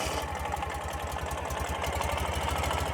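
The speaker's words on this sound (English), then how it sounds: "Pretty much one turn of the starter and it fires right into life." A 2012 Ural Gear Up 2WD sidecar motorcycle engine runs at a steady, even idle just after starting, with a close, continuous low throb and light mechanical clatter, no voices.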